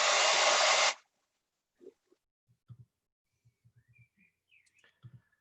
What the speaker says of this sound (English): Zoom automatically cuts out the hairdryer noise.